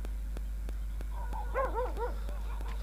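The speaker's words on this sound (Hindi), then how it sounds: "चारों तरफ कुत्तों की आवाज आ रही है" Dogs bark outdoors at night: a string of sharp yips and barks at moderate distance, with a cluster of rising, whining barks in the middle over steady low background noise.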